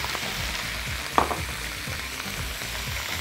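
Carrots, squash and whole garlic cloves fry in a pan while being stirred, with a steady sizzle broken by rhythmic scraping strokes of the spoon and a brief metallic clink.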